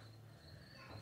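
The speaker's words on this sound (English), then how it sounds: "You may be able to hear the crickets singing in the background" Faint, steady crickets chirp in the distance, a continuous high trilling under a soft background hush.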